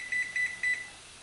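A kitchen timer being set while quail eggs come to a boil for pickling, giving three short, clear electronic beeps in quick succession, close and alone.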